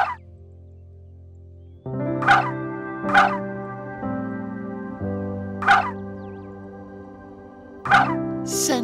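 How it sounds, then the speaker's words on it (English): A turkey gobbles four times in short bursts at roughly even intervals, fairly close and clear, over a steady low droning background with no talking. "It's a turkey bird."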